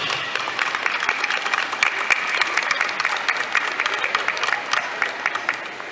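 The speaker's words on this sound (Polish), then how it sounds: "brawa jeszcze raz dla naszych gości" Audience applause for the official guests of a festival in Zabrze, a dense steady wash of many hands clapping at an even level throughout.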